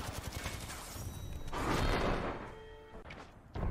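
A muffled burst of rapid hip-fire gunshots and mechanical clatter in Apex Legends, with a few sharp thuds and shots around it.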